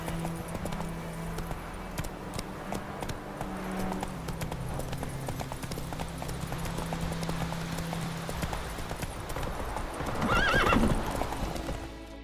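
Horse hooves clip-clop steadily at a rhythmic gait while riding in The Witcher 3: Wild Hunt, with game music and ambience underneath and a horse's whinny near the end.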